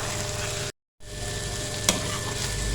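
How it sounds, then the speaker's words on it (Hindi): Matar keema mince with ginger, green chillies and garam masala being stirred in a pan, a steady close sizzle and frying crackle with one brief sharp clink of the spoon, after a short silent gap. "अब इसको अच्छे से मिक्स कर लेंगे।"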